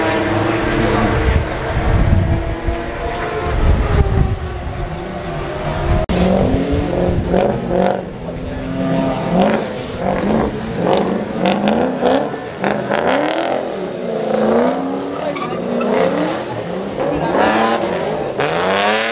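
A Subaru, Japanese import car on a skid pan, its engine revving and rising in bursts alongside squealing tires as cars slide past, with people talking throughout.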